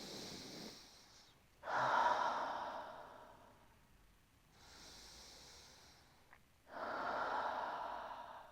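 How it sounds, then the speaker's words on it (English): Slow, relaxed belly breathing close to the ear, with two full inhale-exhale cycles as soft airy breaths that swell and fade, separated by brief quiet pauses. "just a few natural belly breaths"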